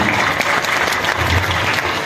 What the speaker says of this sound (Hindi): इसमें एक जोरदार तालियां होना चाहिए।